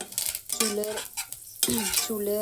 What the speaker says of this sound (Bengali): আমি ফোড়নে দিয়ে দিলাম কালো জিরে আর কারি পাতা।